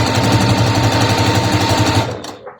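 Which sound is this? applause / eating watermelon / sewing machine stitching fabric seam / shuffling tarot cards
sewing machine stitching fabric seam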